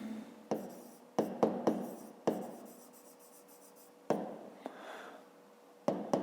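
Pen strokes writing out a maths solution in a notebook, a series of distinct scratchy bursts separated by brief pauses, close and fairly quiet, with no one talking.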